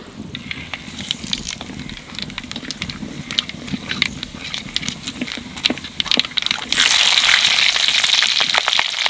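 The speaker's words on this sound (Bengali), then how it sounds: "তেলের উপর দিয়ে দেবো কালো জিরে আর কাঁচা লঙ্কা" Nigella seeds and green chillies dropped into hot oil for a Bengali shorshe ilish, crackling and popping in a close, continuous sizzle that suddenly swells into a louder, denser hiss near the end.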